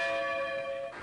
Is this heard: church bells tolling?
yes